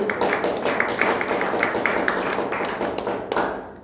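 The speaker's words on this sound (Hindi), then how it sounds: "बढ़िया से मुस्कुरा के ताली बजाइए" An audience claps in a steady rhythmic beat, hands striking together in unison roughly five times a second, fairly close and even, fading slightly at the end.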